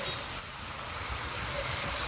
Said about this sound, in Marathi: इथून फुल भरलाय ना नदीचं पाणी इथपर्यंत आलंय